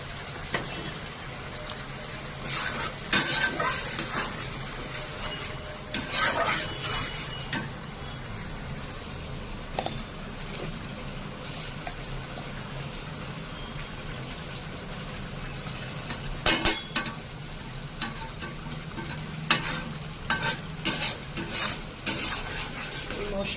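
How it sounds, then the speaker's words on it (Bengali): Spice paste stirred and fried in hot oil for a potato bora curry, with a continuous sizzle under repeated bursts of scraping and clattering from a spoon against the pan, close up and without speech. "তেলের মধ্যে কষিয়ে নিই মশলা"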